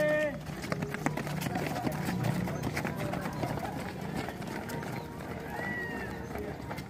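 Paskibraka flag-team trainees in Aceh Singkil jog together outdoors, a steady patter of many footfalls on the ground, with people talking over and among the running steps.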